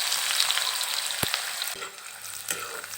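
Finely chopped onion sizzles in hot oil in a wok with cinnamon, cardamom, cloves, bay leaf and dried red chili. The loud, even frying hiss is broken by a single stirring knock.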